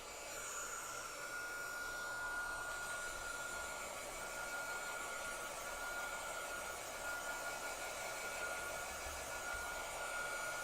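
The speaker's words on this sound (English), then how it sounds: "Let's hit it with our heat gun actually a little bit." A heat gun blows steadily over a craft project to dry the ink, a constant loud whooshing roar with a faint whine that holds unchanged for the whole stretch, with no talking over it.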